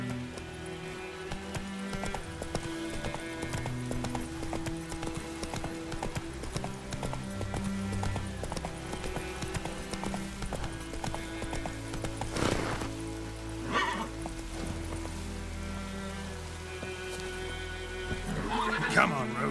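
Roach the horse galloping in the video game The Witcher 3 on Death March difficulty, with rapid rhythmic hoofbeats, snorts and a whinny under game music, and a voice speaking over it.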